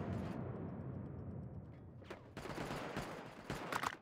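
Gunfire rattles in the WWA RTS mobile strategy game, with dense bursts of rapid shots and a short pause between volleys at moderate distance.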